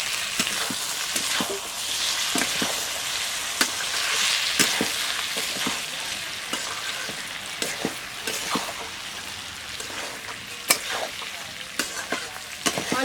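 Fried taro and fried potato with turmeric are sautéed in a pan, a dense, even sizzle under a long series of spatula scrapes and knocks, close and continuous with no voices.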